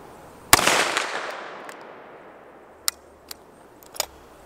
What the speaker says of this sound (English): I gotta try some of those 100 yard shots